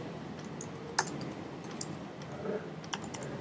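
Typing on a computer keyboard: scattered light key clicks in an irregular rhythm, fairly soft and close, with a few sharper taps standing out against quiet room noise.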